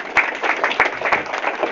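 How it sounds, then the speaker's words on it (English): Applause from the audience at a Common Law Court of Wales meeting, a dense patter of many hands clapping steadily for under two seconds, fairly close and loud, with no talk over it. "So applaud yourselves, please."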